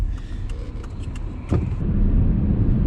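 A 2008 Volvo V70 3.2 SE being driven, its engine giving a steady low rumble from inside the cabin that swells louder about halfway through, with no talking.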